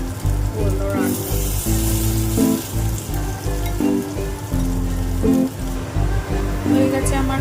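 Mustard flower fritters frying in hot oil, a steady broadband sizzle running throughout beneath prominent background music.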